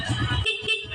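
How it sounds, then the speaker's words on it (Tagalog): Stock horn on a Suzuki motorcycle gives a brief, bright toot of under a second, loud and close over engine idle rumble. "Stock horn."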